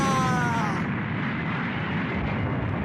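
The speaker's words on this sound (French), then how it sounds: "Explosion extrêmement puissante et concentrée." A powerful, concentrated explosion from a Dragon Ball animated fight scene, a loud sustained blast with a rumbling roar that holds steady for about three seconds, with a faint high whine fading at the start.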